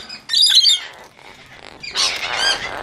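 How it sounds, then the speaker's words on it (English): Sulphur-crested cockatoos give harsh, loud squawks nearby, one raucous burst early and a longer rougher run of calls near the end, with quieter chatter between. "the self-crested cockatoos are trying to take over"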